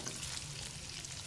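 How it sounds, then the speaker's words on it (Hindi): Onions frying in a pan for a home-made aloo gosht curry make a soft, continuous sizzle with a faint crackle, steady and quiet throughout with no talk. "ये प्याज फ्राई हो रहा है।"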